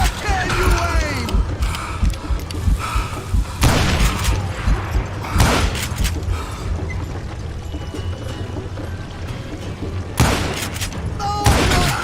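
Gunshots in Call of Juarez: Gunslinger, a Wild West shooter: several sharp, loud reports ring out at intervals over a steady background roar, with the sharpest shots near the start and end.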